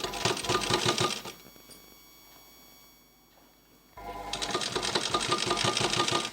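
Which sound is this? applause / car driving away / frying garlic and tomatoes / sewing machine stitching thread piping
sewing machine stitching thread piping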